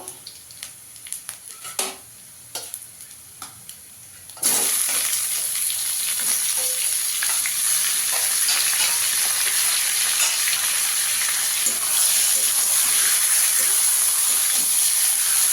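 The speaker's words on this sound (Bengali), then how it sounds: "চিকেনটা দিয়ে একটু ভেজে নেওয়া হবে।" Chicken is fried and stirred in a pan with ginger and garlic. A few faint clicks give way to a loud, steady sizzle that continues for the rest of the clip, with occasional stirring scrapes.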